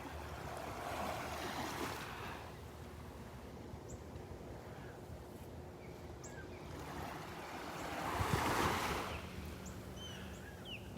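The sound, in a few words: calm ocean waves on beach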